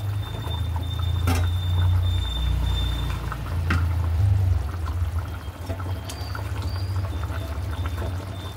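Fish pieces go one at a time into a pot of boiling curry made with milk and boiled potatoes, over a steady, close, continuous bubbling simmer with a few faint clinks.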